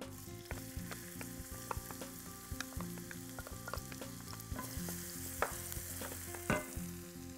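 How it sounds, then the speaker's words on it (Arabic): Sliced onions hit hot oil in a pan and fry with a loud, steady sizzle, while a utensil scrapes and clinks against the pan throughout. "اوكي الزيت خلاص كده سخن، احط البصل."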